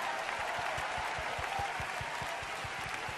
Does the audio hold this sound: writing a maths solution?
no